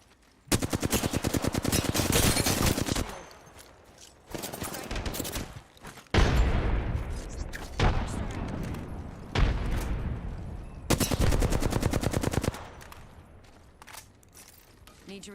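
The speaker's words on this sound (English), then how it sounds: "You're using a peacekeeper like it's a sniper rifle." Peacekeeper shotgun fire in the Apex Legends video game: loud, close blasts in several dense bursts separated by short pauses, with a voice talking between them.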